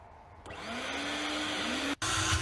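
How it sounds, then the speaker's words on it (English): A large hoover-style vacuum cleaner runs steadily, sucking sand out of a swimming pool filter, with a continuous loud whine and a brief dropout near the end. "I've got the big boy hoover as well, so this is going to make it a bit easier for me"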